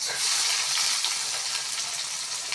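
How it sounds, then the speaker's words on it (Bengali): Onions hit hot oil for a chutney of sidol, potato and green beans, giving a loud, bright, steady sizzle with fine crackling throughout and no voices. "তেলে দেওয়া হচ্ছে পেঁয়াজ"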